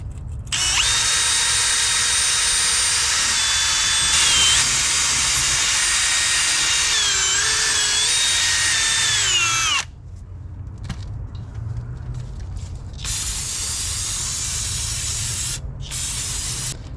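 A power tool whines loudly and steadily on a Honda Civic rear trailing arm, cleaning the surface where a rear bracket mounts, with shifting pitch as it works, then stops near ten seconds, leaving quieter workshop noise and brief bursts.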